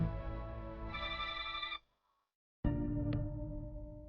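A telephone bell rings in a domestic drama scene, a steady electronic trill that cuts off abruptly, pauses for almost a second, then resumes at the same loud level.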